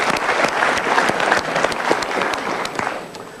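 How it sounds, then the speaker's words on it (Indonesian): An audience at a motivational seminar bursts into sustained applause, dense rapid clapping from many hands that fades slightly toward the end. "kita berikan tepuk tangan untuk pertanyaannya."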